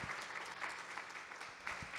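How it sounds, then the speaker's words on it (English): A conference audience applauds in a dense wash of many hands clapping at once, steady and moderately distant, with a few louder claps standing out from the crowd. "Can we applaud for ourselves for just a moment here?"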